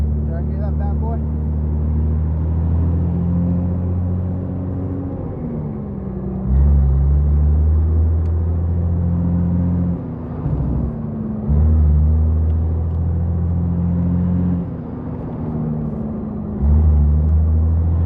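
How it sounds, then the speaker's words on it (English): A 1984 Kenworth W900B truck with a Cat 3406B engine drives, heard from inside the cab as a deep steady diesel rumble that rises and drops with gear changes and throttle, and a voice talks at times over it. "we're inside the truck. Going for a little test drive."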